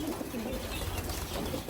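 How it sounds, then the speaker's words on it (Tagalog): Pigeons crowd and jostle over garlic feed, with soft cooing and low fluttering close by against steady background noise. "Ayan, agaw-agawan. Gusto nila yung bawang mga kalapatids."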